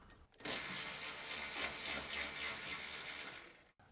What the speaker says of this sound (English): With the electric impact wrench, remove the mounting bolts on the radiator bracket.